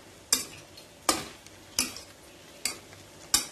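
Cauliflower biryani gently stirred in a pot with a stick, giving about five soft scraping, stirring strokes at a steady pace, each a brief rustle with a light sizzle, close by and with no voices.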